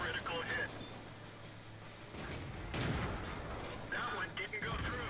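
The gun of a T37 tank in World of Tanks: one heavy shot with a booming report in the middle, with engine rumble and a voice talking around it.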